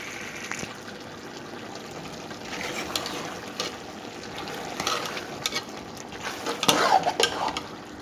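Beaten eggs with potatoes crackle and fry in a pan, a soft continuous sizzle broken by spoon scrapes and stirring clatter that grow busier toward the end, close but fairly quiet.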